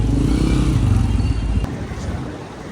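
A motorbike engine runs loudly close by at an outdoor gathering of the Karachi Ijtima, then the low rumble cuts off abruptly partway through as the bike pulls away, leaving quieter crowd noise.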